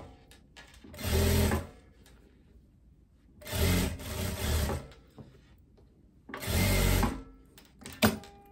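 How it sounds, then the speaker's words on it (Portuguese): A sewing machine stitching a poncho runs in three separate whirring bursts of about a second each, separated by quiet pauses, with a short sharp click at the end. "Marília, minha máquina enrosca demais."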